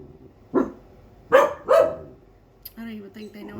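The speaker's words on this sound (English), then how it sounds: "I don't even think they know what they're barking at" Several pet dogs bark inside a house with the blinds and doors shut: three loud, close barks in quick succession, then a person talks over quieter background noise.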